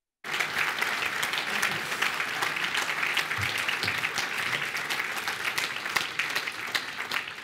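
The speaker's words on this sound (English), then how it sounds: "A round of applause for these young people" Steady applause from an audience at a youth conference, honouring young people on stage. It starts abruptly, then holds a dense, even clatter of many hands for several seconds with a few voices faintly mixed in.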